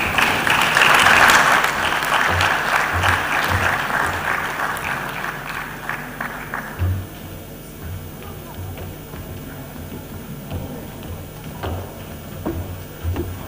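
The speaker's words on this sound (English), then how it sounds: "Once again, a round of applause for Mr. Kalim Shah" Dense audience applause fills a hall at the Lagos Employment Summit 2022, loud and sustained at first, then thinning out to scattered claps over the last half.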